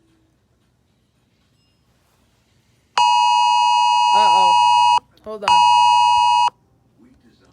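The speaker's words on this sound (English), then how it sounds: "if you guys heard that beep, I apologize" Two long, steady electronic beeps from a device, each about one and a half to two seconds, loud and close, with a brief spoken interjection between them.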